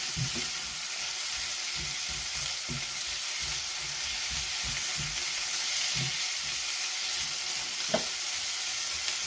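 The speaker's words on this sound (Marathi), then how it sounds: "सो हें मातशें स्लो मिडियम फ्लेमीचेर फ्राय जावन दी" Onion and tomato with salt fry over a slow-medium flame in a pan for Goan egg masala curry, producing a steady close sizzle with periodic soft scraping strokes of stirring.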